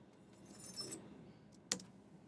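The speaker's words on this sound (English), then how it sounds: "One of the elders had some keys that were jingly." Jingling keys shaken by hand, a brief soft rattle near the start followed by one sharper, louder jangle, heard close against a quiet room background with no talking.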